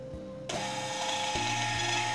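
A LAN WiFi receipt printer runs again after a brief quiet start, breaking into a loud continuous mechanical buzz with a slight shift in pitch partway through as the receipt feeds out, no voices over it.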